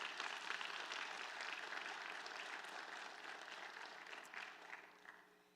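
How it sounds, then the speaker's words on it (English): Graduates at a nursing (BSN) degree ceremony applaud their guests, a steady, dense wash of clapping from a large crowd that holds for several seconds and then gradually tapers off. "Graduates, let's applaud your guests in gratitude."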